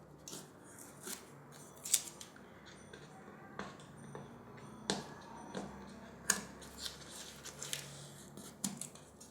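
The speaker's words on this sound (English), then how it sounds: "I'm quickly going to remove this sticker right here so you can have a better look." Sticker peeled off a boAt Stone 700 speaker box, heard as a run of quiet crisp crackles, ticks and scrapes at close range, irregular and light, with no talking.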